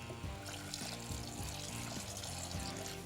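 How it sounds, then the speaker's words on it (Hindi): Cold water poured over boiled walnuts in a kitchen strainer gives a steady, close splashing rush that runs the whole time, with tonal background music underneath. "मैं एक स्ट्रेनर ले लेता हूँ, छन्ना कहाँ, हाँ ये आ गया, ये ले। और इसमें थोड़ा ठंडा पानी डाल देते हैं ताकि थोड़ा ठंडा हो जाए"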